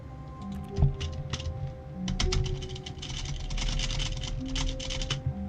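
Computer keyboard keys, including the spacebar, clatter in quick irregular bursts of close, crisp typing over a steady low hum, with a few brief tonal game sounds in the background.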